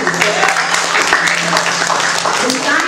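An audience at a church sermon claps hands in sustained applause that holds at a steady level throughout, with voices mixed in.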